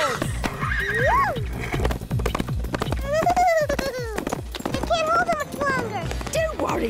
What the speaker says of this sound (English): Who needs wheels when you have... Wow! Sparky the Wonder Horse!